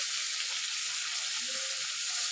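Prawns frying in hot oil in a home kitchen, a steady close hiss and sizzle with faint crackles, alone and without talk.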